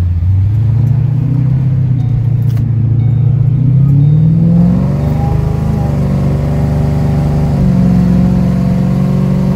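Ford Mustang with a cammed Coyote V8 tuned for over 800 rear-wheel horsepower, a loud, close, lumpy engine rumble that swells in a rev and then settles into a steady choppy drone.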